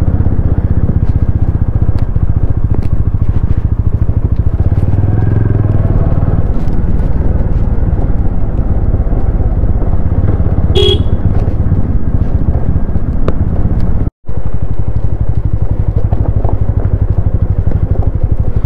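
A motorcycle climbs a steep, badly broken road to Gangamaya Park near Darjeeling, its engine rumbling loudly and steadily close by with rattling and clatter, broken only by a brief dropout near the end.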